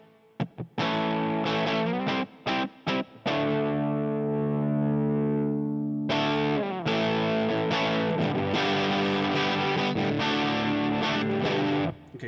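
Heavily fuzzed electric guitar through a Nembrini fuzz pedal, loud and continuous: a sustained distorted chord rings out, then rapid choppy strummed chords follow, with no voices.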